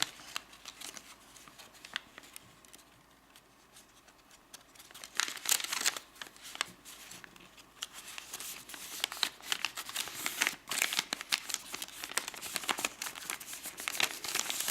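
Paper is folded and creased by hand while making an origami owl: close, intermittent crinkling and rustling with sharper crisp bursts from mid-clip onward, no voice heard.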